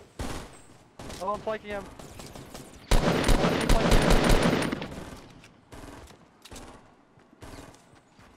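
Fortnite gunfire erupts in a loud, rapid volley of shots partway through, after scattered earlier shots, with a player talking briefly before the burst and sparse shots trailing off afterward.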